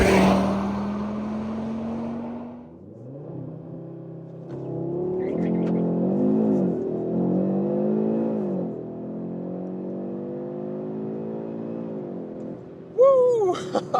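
An Audi RS3 facelift with a five-cylinder engine, driven in performance mode, idles and then revs up through several rising, throaty pulls. The engine note swells and falls as it accelerates, and a sharp burst comes near the end.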